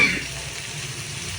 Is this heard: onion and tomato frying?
yes